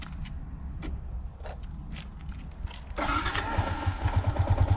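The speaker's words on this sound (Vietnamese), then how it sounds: "Nổ máy lên nó mới sáng nha anh em." A Yamaha Exciter 150 motorcycle cranks briefly amid a few clicks, then its engine catches and settles into a close, steady idle with a rapid putter, and no one talks.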